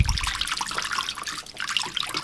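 Water sloshing and trickling as a waterproof phone pouch sits submerged in a filled container, a close, steady splashy bubbling without any voices.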